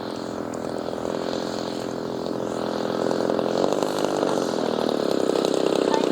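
A 77-inch span RV-8 Old Crow RC model airplane engine runs steadily, a continuous buzzing drone that holds even and grows slightly louder toward the end, with no talk over it.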